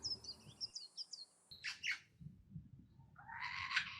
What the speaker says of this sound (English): Their beautiful call can be heard in the riparian area along the Diamond Creek in summer.